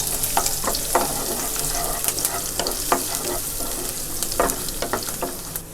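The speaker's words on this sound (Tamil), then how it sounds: "எண்ணெய் காஞ்சதுக்கப்புறம் இதில் நம்ம கொஞ்சமாக கேஷ்யூ நட்ஸை ஆட் பண்ணிக்கலாம். இதை சேர்த்து நல்லா இப்படி ஃப்ரை பண்ணிக்கோங்க." Cashew nuts and chopped garlic frying in hot oil in a pan, a continuous close sizzle with scraping stirs and bursts of crackle.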